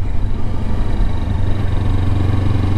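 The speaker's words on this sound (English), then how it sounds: "I am riding this beginner bike." Kawasaki Versys X 300 motorcycle being ridden on a commute, its steady engine drone loud and close throughout with no talk over it.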